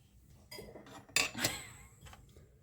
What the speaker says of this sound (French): on va prendre le miel... Que Josie nous a offert.